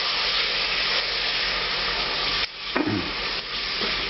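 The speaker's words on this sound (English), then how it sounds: "I'm just going to stir this for another couple of minutes, evaporate off a lot of liquid from the vinegar" Hot chili oil for a restaurant-style Indian curry sizzles loudly in a pan after malt vinegar is added and is stirred with a bright, continuous hiss and a few scraping clatters partway through.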